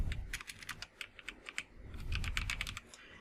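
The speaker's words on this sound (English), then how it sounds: "I need to type the hello world." Fast typing on a computer keyboard, with a quick run of crisp, close key clicks in short uneven bursts and a duller thump partway through, and no speech.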